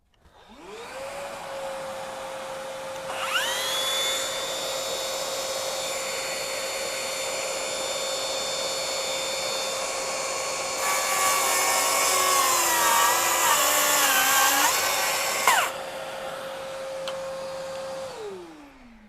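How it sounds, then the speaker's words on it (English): A Milwaukee 6-1/2 inch plunge track saw motor spins up and plunges into 2-inch Purple Heart hardwood, giving a loud steady whine with a harsher rasping cut in the middle before the blade winds down alone. "I'm going to truly plunge this down into that full depth of cut as well as full blade grab of the full 2 inch Purple Heart."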